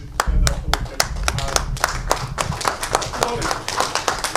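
An audience at a Great Lakes region conference in London rises and applauds, the clapping fast, dense and close, continuing throughout with a few sharper individual claps standing out.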